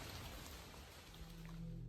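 Steady rain drumming on a tarp at a campsite, a dense, even patter filling the whole stretch at a faint, constant level with no voices.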